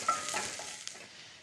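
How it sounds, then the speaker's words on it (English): Pasilla peppers fry and soften in a little oil, giving a brief, soft sizzle with light stirring clicks, close and fairly quiet. "I'm just going to add a little bit of oil here and soften the pasilla peppers."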